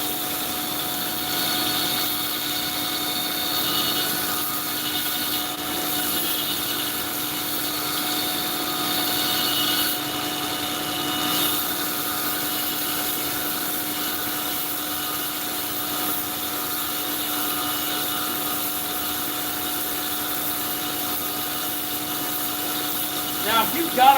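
A belt grinder runs steadily while knife handles are finished in bulk, a continuous whining motor drone with faint grinding contact, steady and close throughout with a brief clatter at the end.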